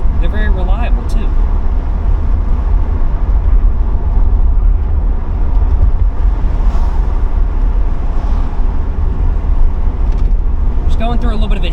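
A car, an older Toyota Tercel, driving through a hilly area, with a constant low engine and road rumble throughout and a few faint sounds from inside the cabin near the end.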